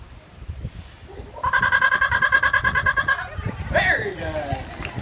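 A pet parrot at a zoo's Australian Outback exhibit mimics a kookaburra, giving a loud, rapid rhythmic cackling run of about two seconds, then a rising, squawky tail; other voices murmur in the background.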